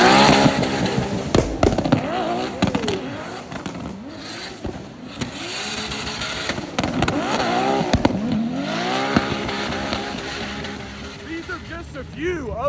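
Drift cars at a DC Drift event, including Built Motor 2JZ and S13 machines: engines rev and rise and fall in pitch repeatedly as cars pass near, with a steady crowd-and-voice background and talk mixed in.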